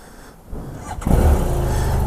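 A 2017 BMW F800 GS motorcycle engine cranks and catches, then settles into a loud, close, steady idle rumble after a brief quiet lead-in.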